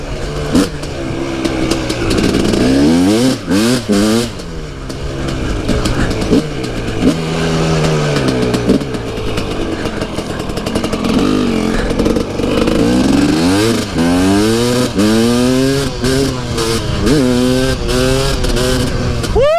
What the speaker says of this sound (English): I like the way this 300 sounds though, man. It hits hard.